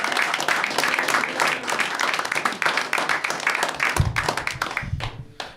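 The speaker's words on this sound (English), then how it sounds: "Let's have a big round of applause for Roman Leo." A crowd breaks into sustained applause, many hands clapping densely and loudly before it thins out near the end.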